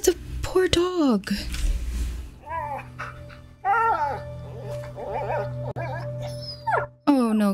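A dog whimpers and whines in the video game A Plague Tale: Innocence, with repeated high, wavering cries spread across the scene over low game ambience.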